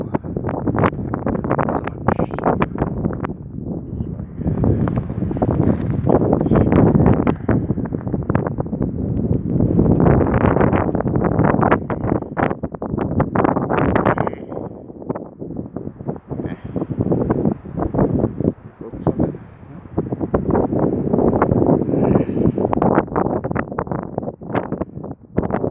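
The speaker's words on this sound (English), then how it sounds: "This wind is getting windier." Strong gusting wind during an April spring snowstorm in Pabos, Quebec, buffeting the microphone in loud surging bursts with brief lulls, continuous over the whole stretch.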